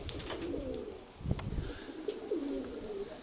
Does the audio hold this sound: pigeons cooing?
yes